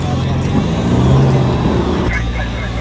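A 4WD vehicle pushes through a river crossing, its engine labouring in a loud, steady low rumble close by with water and drivetrain noise mixed in, easing slightly toward the end.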